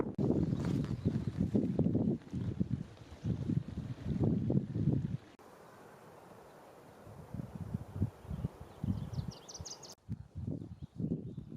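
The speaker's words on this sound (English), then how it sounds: "it's getting windy" Gusty wind buffets the microphone in heavy, rumbling bursts on a Colorado wilderness trail, then eases to a steady outdoor rush with a few bird chirps near the end.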